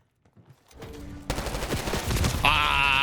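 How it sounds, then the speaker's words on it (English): Gunfire from a C9 submachine gun in Black Ops 6 multiplayer, a dense rapid stream of loud shots kicking in after a quiet opening and continuing with game effects layered over it. "I'm shooting at dead bodies"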